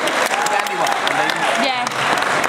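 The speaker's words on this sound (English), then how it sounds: "Give them all a big round of applause." Audience applause at a hypnotist's stage show, steady dense clapping throughout with a voice and a crowd talking over it, loud and close.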